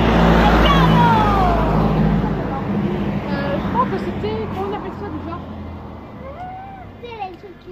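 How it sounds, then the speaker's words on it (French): A truck passes by close on a street with a loud roar that swells and then fades away, while people talk over it throughout. "Ah tiens, on a un autre camion."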